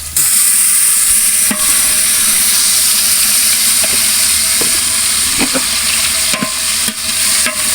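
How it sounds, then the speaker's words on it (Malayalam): Sliced onions frying in ghee in a copper pot for a large catering batch of biryani rice give a loud, steady sizzle and hiss, with occasional sharp clicks from stirring and no voices. "ചോറിലേക്കുള്ള കുറച്ച് സവാള ഇതേപോലെ സ്ലൈസായിട്ട് അരിഞ്ഞതും കൂടി ഇട്ട് കൊടുത്തിട്ടുണ്ട്"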